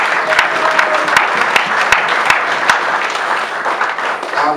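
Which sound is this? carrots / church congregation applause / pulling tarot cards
church congregation applause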